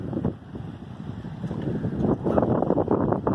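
Gusty wind buffets the microphone on a dock in early March, a continuous rumbling roar that swells and surges in irregular gusts, with no one speaking.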